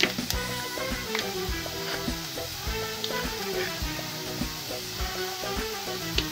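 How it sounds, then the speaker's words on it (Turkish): Chopped onion with a little cumin sizzling and crackling steadily in a hot pan, a continuous close frying hiss with occasional stirring scrapes. "Soğan bayağı bir kavruldu arkadaşlar."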